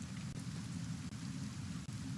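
Steady rain in Kenshi, a dense, even hiss of heavy downpour with a low rumbling wash underneath, continuous and fairly loud with no voices.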